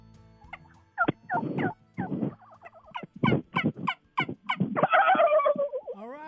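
Loud, close turkey gobbles from a Turpin Game Calls turkey call burst out in a series of rattling, broken calls, ending in a longer warbling gobble, with no voices over them.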